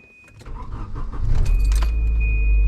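A 1988 Volvo 740 turbo with intercooler and manual gearbox cranks after a jingle of keys, catching at about 1.5 seconds and settling into a steady, loud, close idle with no talking.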